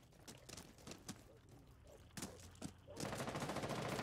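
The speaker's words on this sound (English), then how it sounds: "We do hear the gunshots." Rapid gunfire crackles through a Rainbow Six match in irregular bursts, sharp cracks scattered across a few seconds before a denser, sustained volley at the end, all at moderate loudness.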